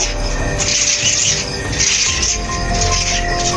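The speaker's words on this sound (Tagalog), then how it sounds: "Daming ibon no?" A dense chorus of birds chirping and twittering at once, steady and fairly loud, with no one speaking.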